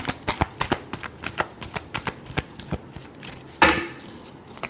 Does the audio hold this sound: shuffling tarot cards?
yes